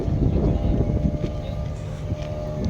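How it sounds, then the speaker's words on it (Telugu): Low, rumbling drone of a speedboat engine on Durgam Cheruvu lake in Hyderabad mixed with wind buffeting the microphone, steady throughout with some faint background voices. "చూడండి స్పీడ్ బోటు ఆ బోటు"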